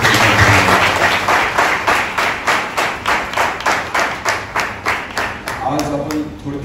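A church congregation claps hands together in a strong, even rhythm, loud and close, after a burst of looser applause at the start; the beat slows and thins toward the end as voices begin to rise.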